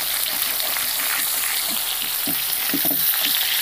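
Piyasi fish fries in mustard oil in a Bengali-style kitchen, giving a steady, close crackling sizzle with sharper pops of spattering oil and a few faint scraping stirs.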